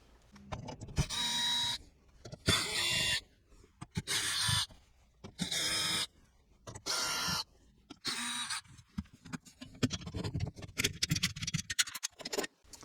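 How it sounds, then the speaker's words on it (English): A power drill or screwdriver backs screws out of a tray under an RV, in a series of short whirring bursts separated by quiet pauses and soft handling noises. "I'm going to have to take out these screws to take out this tray"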